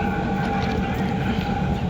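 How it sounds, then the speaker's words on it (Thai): Thai SRT 1216 train arriving at Ban Laem station, a steady loud rumble and hum of the rolling train filling the whole span. "มาแล้วนะครับรถไฟไทยเฮาครับ SRT 1216 นะครับ"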